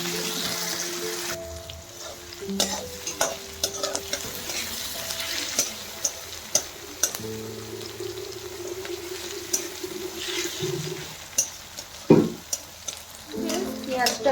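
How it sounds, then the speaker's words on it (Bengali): Chopped onions fry with a little salt in a pan for a spiced chicken kosha, a steady sizzle broken by repeated scraping and stirring clicks from a spoon against the pan, close and continuous. "এবারে আমি এতে একটু হালকা নুন দিয়ে দিচ্ছি যাতে পেঁয়াজটা তাড়াতাড়ি সিদ্ধ হয়ে যায়।"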